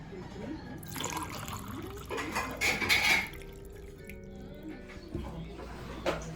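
Water is poured into a glass for drinking among light clinks of dishes and cutlery, with a brief splashing fill midway, the sounds fairly close and quiet.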